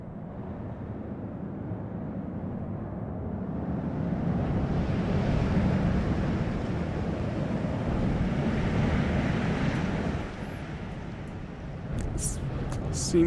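Synthesized wind ambience from a granular weather system in Unreal 4 gusts continuously, swelling louder partway through and easing back near the end, with faint high tonal chimes appearing at the close.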